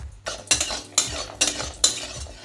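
Lentil dumplings (bori) fry in hot mustard oil in a wok, with sharp, regular scraping strokes of stirring about twice a second over a soft sizzle.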